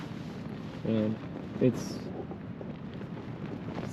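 Wind blows steadily at a tropical backpacking campsite, heard from inside a tent as a continuous broadband rush, while a person speaks briefly in the middle.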